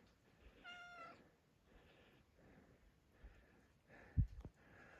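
Cat on a hiking trail on Réunion meowing several times in a row, faint and close, a sequence of short mewing calls with a few soft thumps near the end.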